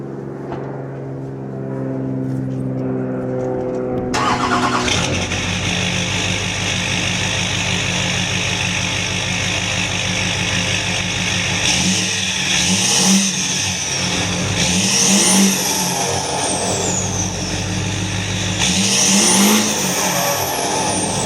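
A 2006 Duramax diesel truck engine on its stock exhaust runs loud and steady, with a sustained throaty drone and several swelling revs near the end, close by with no talking.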